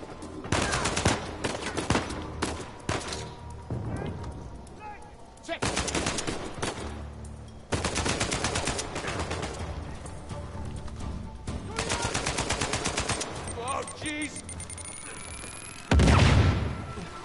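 Gunfire in Uncharted 4 comes in dense bursts of rapid shots, broken by short gaps and ending in a heavy impact, with game sounds in between.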